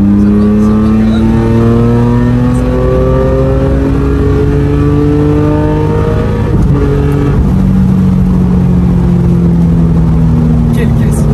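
Porsche 996 GT3 engine pulling hard in fifth gear, a loud sustained rising howl that climbs steadily, dips briefly at a shift, then keeps building, with people talking over the engine from inside the car.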